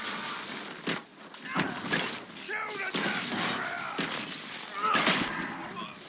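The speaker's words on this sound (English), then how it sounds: "you protected Cassandra with the explosion because you were holding the shield up" A loud explosion with crashing and shattering debris erupts in the fantasy video game Dragon Age Inquisition, amid dense combat noise and clattering impacts, with a voice talking underneath.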